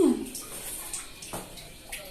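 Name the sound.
water running from a tap left open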